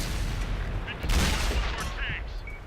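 An M46 Patton tank's main gun fires in a tank-battle video game, a loud broad blast about a second in, over continuous battle noise and engine rumble.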